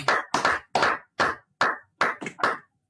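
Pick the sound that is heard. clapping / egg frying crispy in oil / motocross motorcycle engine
clapping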